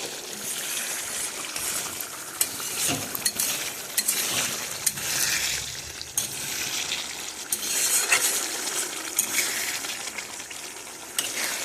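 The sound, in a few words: fish oil frying in a pan on low flame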